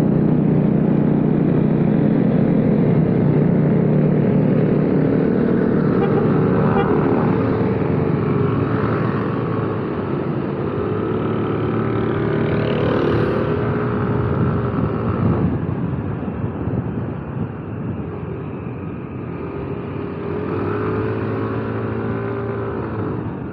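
Loud, continuous engine roar and wind rush from a group of motorcycles on a Sunday morning ride through the curves of Pangalengan, with rising and falling revs as bikes accelerate and pass close by.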